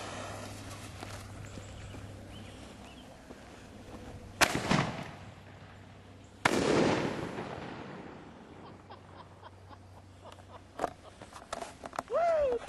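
A homemade cannon mounted on an elevated tank is fired outdoors, giving two sharp, loud blasts a couple of seconds apart over quiet ambient noise, followed by scattered thumps and a faint whine.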